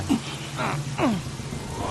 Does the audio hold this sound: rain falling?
yes